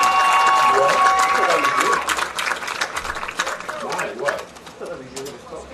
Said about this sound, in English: one final round of applause for your 2020 CMU Homecoming